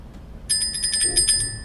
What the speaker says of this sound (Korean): 근데 갑자기 종이 울려. 제가 요즘 알람을 쓰는 게 있어가지고